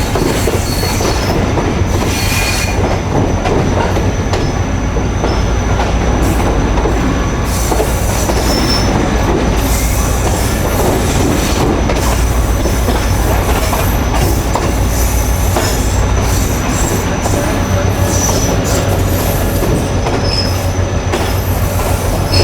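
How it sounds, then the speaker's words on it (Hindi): A Tezgam passenger train runs at restricted speed, heard from on board as a loud, continuous rumble with rhythmic wheel clatter and recurring high metallic squeals over more than twenty seconds. "रेस्ट्रिक्टेड स्पीड को फॉलो करते हुए सम्मा सट्टा को स्किप करेंगे ट्रेन हमारी।"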